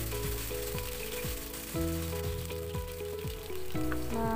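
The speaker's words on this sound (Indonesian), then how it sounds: "tumis bawang bombaynya yang sudah diiris-iris tipis tadi" Thinly sliced onions sautéing in a pan for a river clam dish, giving a steady close sizzle with faint stirring scrapes and no voices.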